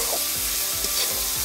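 Potatoes with salt and cumin powder are stirred in a frying pan, a brief close sizzle with rhythmic scraping strokes of the spoon.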